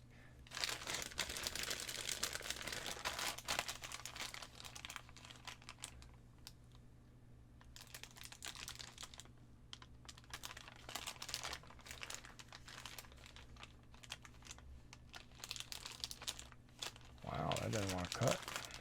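A plastic package of decals being cut open and its wrapping crinkled, continuous close crackling and rustling with brief quieter gaps, a voice heard talking partway through.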